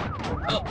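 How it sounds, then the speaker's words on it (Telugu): A siren from a car wails in rising and falling sweeps over road rumble, moderately loud and continuous for under a second. "ఏంటి ఆ సౌండ్? సైరన్ సౌండ్ అండి."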